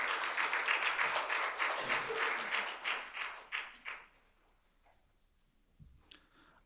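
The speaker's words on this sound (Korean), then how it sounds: "큰 박수로 청해 주시면 감사하겠습니다." A seminar audience on accounting standards claps as a speaker is called to the podium: brisk, moderately loud applause for about four seconds that quickly dies away, leaving a quiet room with a couple of faint knocks.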